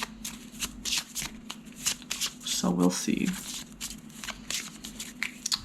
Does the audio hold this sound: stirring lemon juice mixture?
no